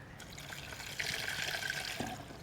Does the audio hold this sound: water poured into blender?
yes